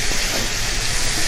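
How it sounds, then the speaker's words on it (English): Chicken breast frying in hot oil in a kitchen, a loud, dense, continuous sizzle and hiss with no talking, close to the pan. "Chef Victoria will start frying the chicken."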